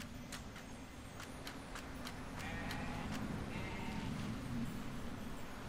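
Sheep bleating in the video game Grow Home, several short, sharp bleat-like calls spaced irregularly over a constant low hum, fairly faint, with no voices in between.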